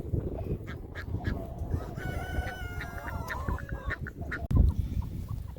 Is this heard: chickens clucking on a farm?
yes